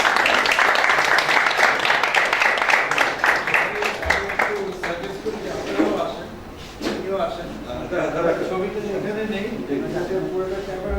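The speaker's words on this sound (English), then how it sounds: "A big round of applause." Sustained audience applause at a university corporate talk as a guest is received with flowers, dense clapping that is loud at first, thins out midway, then picks up again for several seconds.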